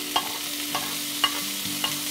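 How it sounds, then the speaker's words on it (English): Bacon frying in a pan hisses with a soft, steady sizzle, broken by a few light taps and scrapes of a utensil against the pan at roughly half-second intervals. "All right, so now I'm going to place my bacon in here."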